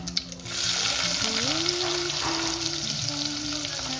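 Onion frying in hot oil with cumin and a pinch of asafoetida in a home kitchen, a steady, close sizzle that swells early and holds loud throughout, with a faint tonal hum underneath.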